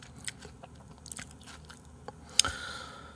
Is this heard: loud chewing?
yes